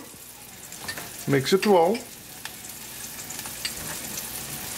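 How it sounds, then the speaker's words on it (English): An onion sautés in a frying pan with a steady low sizzle throughout, while a voice speaks briefly in the middle. "we're going to saute our onion for like a minute or so"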